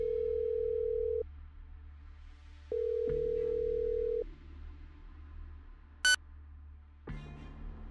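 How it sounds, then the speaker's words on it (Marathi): A telephone being dialed for a call: a steady low dial tone sounds in two separate stretches, a sharp keypad beep cuts in briefly near the end, and a low room hum runs underneath with no voices. "त्याने लगेच त्याचा फोन हातात घेतला आणि त्याच्या एका खास माणसाला फोन केला"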